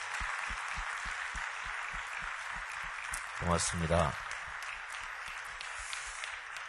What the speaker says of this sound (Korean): 우리 교회 젊은이들 한 번 더 큰 박수로 축복하겠습니다